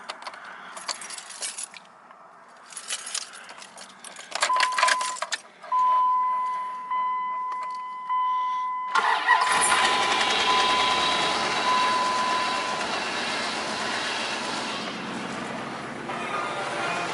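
A big Dodge Ram pickup truck, not started in a while, cranks and fires up after keys jingle in the ignition, then settles into a loud steady idle close by.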